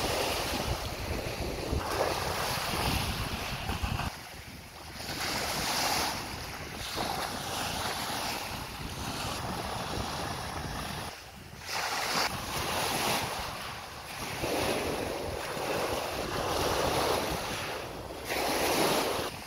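Waves wash along the shore of Lake Garda near Riva del Garda in rolling surges, with steady wind buffeting the microphone throughout and no voices.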